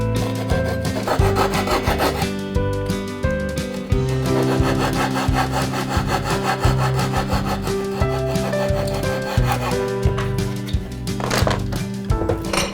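A hand saw cuts through wood for a scribe joint with steady rasping back-and-forth strokes in a regular rhythm, close and fairly loud, with no talking.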